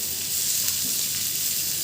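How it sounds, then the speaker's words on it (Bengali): Onions sizzle and fry steadily in a hot pan, a dense continuous crackle held at close range with no talk. "পেঁয়াজটাকে লাল লাল করে ভেজে নিতে হবে"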